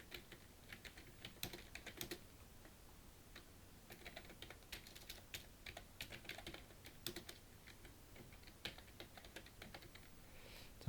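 Steady typing on a computer keyboard while entering slide text in PowerPoint, with dense quick key clicks throughout and a few sharper keystrokes rising out of the stream, close and moderately quiet.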